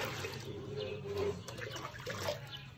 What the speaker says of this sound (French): Mais je vais réduire à 8 litres d'eau ou bien 9 litres d'eau, soit 7 litres d'eau pour que mon savon soit lourd. Donc, on va ajouter l'eau.